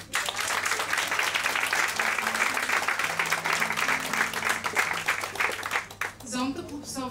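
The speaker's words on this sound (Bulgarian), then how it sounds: "аплодисменти за нея" An audience at a charity Christmas dinner breaks into sustained, dense applause with a faint steady hum beneath it. The clapping fades near the end as a voice begins speaking.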